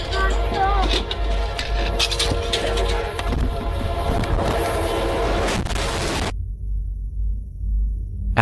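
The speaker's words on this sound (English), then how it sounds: "as the camera continued rolling, the train would arrive" A train arriving along the tracks, heard as a loud, continuous rumble with rattling and a tonal horn-like blare, before the sound cuts sharply to a thin low drone near the end.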